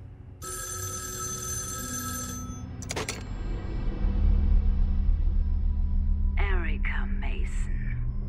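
A telephone rings in the interactive thriller video game Erica, a bright electronic trill lasting nearly two seconds, then a short burst, followed by a low rumble and faint whispery voices.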